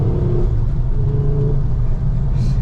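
A car moving at speed gives a steady, loud low road rumble and engine drone throughout, with a faint hiss near the end.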